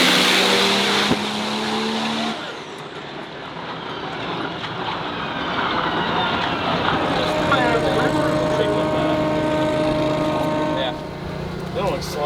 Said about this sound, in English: Hunter Coffey came back with a running truck.